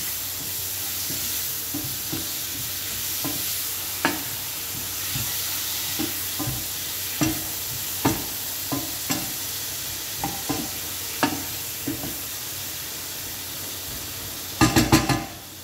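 Two large tomatoes fry in a pan with a constant close sizzle and hiss, broken by scattered clinks and scrapes of stirring and a final clatter of cookware.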